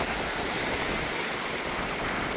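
Sea water rolling in a steady, unbroken wash of broadband noise, close and constant with no clear individual breaks, and no voices.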